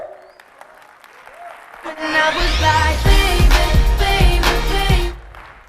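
Audience applause at a motivational speech swells in loudly after a quiet start, holds as a thick burst of clapping for a few seconds with music under it, then cuts off near the end.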